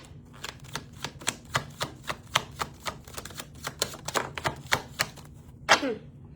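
Crisp rhythmic clacks and riffles of tarot cards being shuffled, about twenty quick strikes at a steady pace, ending with a louder flutter.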